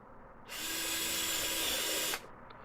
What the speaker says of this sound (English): I'm just drilling some pilot holes to set some screws to hold the piece in place